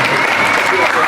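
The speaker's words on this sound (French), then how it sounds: "Est-ce qu'on peut encore applaudir pour vous?" Audience applause at a school excellence awards ceremony at Menoua Espoir Collège, a loud, dense burst of many hands clapping that fills the short moment without pause.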